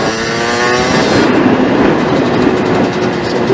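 A 50cc moped engine revs loud and close, a harsh buzzing drone that climbs in pitch and holds steady throughout, with no voices over it.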